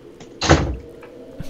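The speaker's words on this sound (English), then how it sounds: "Oh, you're clicking on the door." A door clicked open in a Garry's Mod horror map: one loud, close thunk of a game door, with a few faint small knocks before and after.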